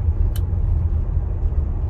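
Tesla Model Y Long Range with the acceleration boost upgrade pulling hard from inside the cabin, a steady deep low rumble and road noise with a brief faint high tick near the start, no talking.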